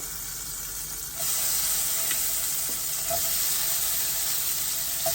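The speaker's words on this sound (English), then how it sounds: "So I have my garlic sauteing in the butter here" Garlic and vegetables sautéing in butter in a pan, a steady close sizzle with light stirring scrapes, the sizzle swelling a little louder partway through as fresh vegetables hit the pan.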